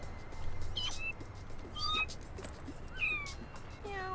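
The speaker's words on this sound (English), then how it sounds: "He just says meow." Cats meow in the No More Heroes video game during a cat-herding minigame, several short high mews scattered across the span over a faint steady background hum.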